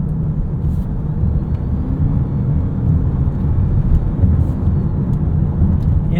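Low, steady drive hum of a 2023 Mitsubishi Outlander PHEV accelerating, heard from inside the cabin as a smooth motor and road drone with rumbling tyre noise, no voices.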